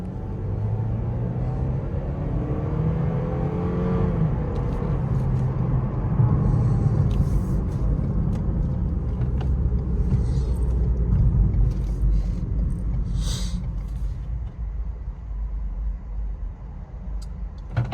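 A 2023 Lexus IS300 accelerating, heard from inside the cabin as a continuous low engine rumble and road drone that holds steady, then eases slightly near the end.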